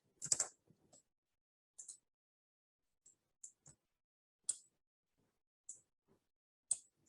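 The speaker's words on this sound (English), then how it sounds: "I'm typing a text." Short bursts of keyboard typing, a few keystrokes at a time with pauses between, close and fairly quiet, no voices.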